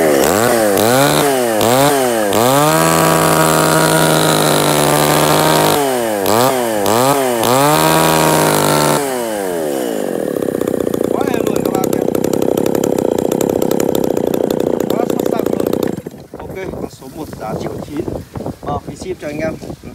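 A used Japanese chainsaw engine revs up and down sharply in repeated bursts, then settles into a loud, steady idle before cutting off. A voice speaks near the end.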